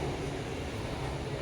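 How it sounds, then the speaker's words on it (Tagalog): An LRT light rail train arrives at a station in the Philippines with a steady low rumbling roar, close and continuous through the short moment, with no talk. "oh now the LRT is here"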